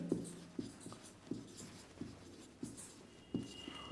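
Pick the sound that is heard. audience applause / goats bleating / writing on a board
writing on a board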